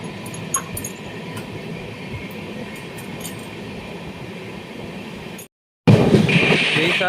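The Ernakulam–Velankanni Express, train 16362, rolls into Kottayam station with a steady close rumble and faint rail noise, cut by a brief dropout before it returns louder.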